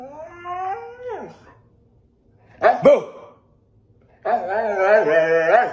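A dog howls in a long falling wail, then yelps and whimpers in drawn-out, wavering cries after being booed at, close and fairly loud, with a short shout in between.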